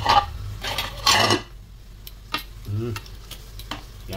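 A utensil stirs oxtail soup boiling in a pot, giving a few loud scraping, clattering strokes early on, then quieter bubbling with scattered light taps.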